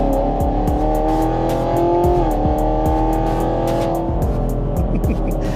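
A modified Camaro SS 1LE with Stage 3 modifications pulls hard in second gear, its engine note loud and close. The strained tone climbs steadily, dips briefly at a shift and then rises again, with regular ticking road noise beneath.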